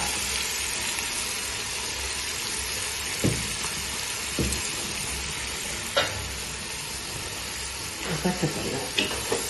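Onions sizzle steadily in hot oil while being added for masala for a vegetable biryani, a constant frying hiss broken by a few sharp clinks of a utensil.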